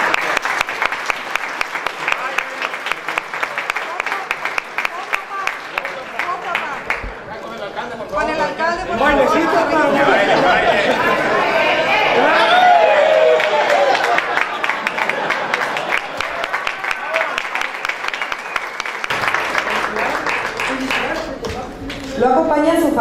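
Audience applause at a breakfast marking International Police Day, honoring municipal police officers; sustained clapping from a room full of people swells and fades over about twenty seconds, with voices and chatter mixed in.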